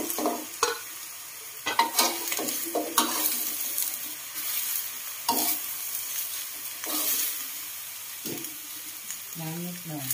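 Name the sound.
stir-frying onion flowers in a pan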